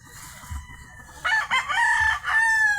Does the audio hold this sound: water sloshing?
no